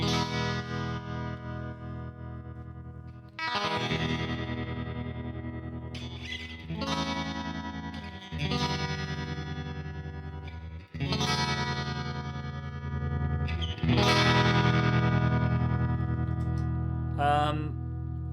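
Clean electric guitar played through a UAD Dream '65 amp plugin with tremolo, loud and close: several strummed chords ring out and sustain with a steady pulsing wobble, with no talk over them.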